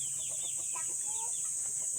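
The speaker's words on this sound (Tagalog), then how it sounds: "Rooster." A rooster calls among breeder chickens of Rhode Island Red, Black Australorp and Light Sussex stock, giving short clucking and crowing notes over a constant background hiss, fairly close, with no talking.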